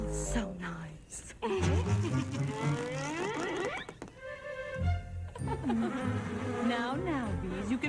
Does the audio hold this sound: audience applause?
no